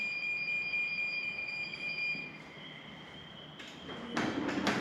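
A Genie jackshaft wall-mount garage door opener sounds steady high electronic tones at first, then a series of short sharp beeps near the end, against a low background hum.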